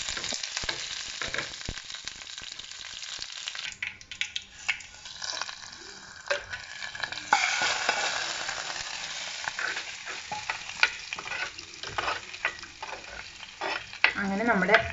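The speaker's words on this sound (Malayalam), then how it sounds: "ഞാനൊരു പാനിൻ്റെ അകത്ത് കുറച്ച് വെളിച്ചെണ്ണ വെച്ചിട്ടുണ്ട്. അതിനകത്തോട്ട് കുറച്ച് കടുക് ഇടുവാണ്." Mustard seeds, two dried red chillies and curry leaves crackle and sizzle in hot coconut oil while tempering a pineapple pachadi. The spitting fry is dense and close, with stirring clatter and uneven pops throughout.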